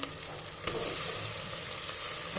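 Onions for chicken masala biryani sauté in a pan with a continuous close sizzle, broken by a few light scraping ticks from stirring. No voices.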